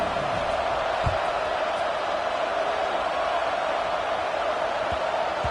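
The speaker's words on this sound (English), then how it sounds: "this crowd now ready to get behind them" Steady roar of a large stadium crowd at a Tennessee football game as the kickoff approaches, a broad, even wash of many voices with a few low thumps.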